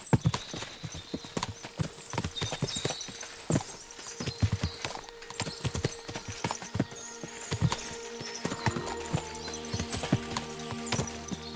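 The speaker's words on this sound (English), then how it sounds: "What a lot of horses!" Many horses clip-clop on a path in Kingdom Come: Deliverance II, with dense overlapping hoofbeats, a few neighs and a busy outdoor background, no speech.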